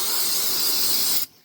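Starting fluid sprays in one steady, loud hiss into a John Deere L100 lawn tractor engine that sat for three years with water inside, then cuts off abruptly into near silence.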